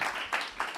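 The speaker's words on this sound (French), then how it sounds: "J'aimerais qu'on applaudisse Pierre-Éric Sutter." Brief applause from a conference audience for a speaker, a dense wash of clapping that swells in a few waves over under a second, moderately loud and close.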